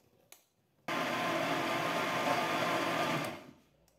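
A blender whirs steadily for about two and a half seconds while mixing simple cake batter with the ingredients all added at once, starting abruptly, then winding down, after a brief clatter beforehand.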